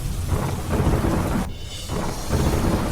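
Heavy monsoon rain pours down in Ahmedabad with deep rumbling thunder rolling through it, the downpour loud and continuous and the rumble swelling and fading over a few seconds.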